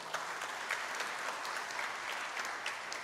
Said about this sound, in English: one good round of applause to the MC of the day